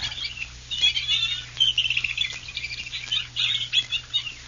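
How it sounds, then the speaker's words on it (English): Birds call over a freshwater swamp near the Indiana Dunes, with crows noted, their chirps bursting in an irregular chorus at moderate distance above a steady low hum. "Flying over the whole scene. The birds of the swamp."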